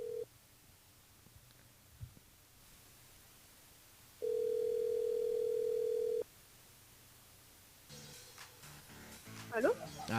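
Telephone tones as a radio show host rings a listener through the studio switchboard: a short tone, then a steady two-second tone after a gap, followed by clicks and faint line noise, with some voice near the end.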